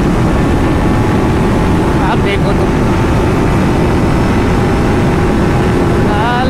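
Kawasaki Ninja 300 and TVS Apache RR 310 motorcycles in a drag race, engines roaring steadily and loudly with wind rush throughout while a rider talks over the noise.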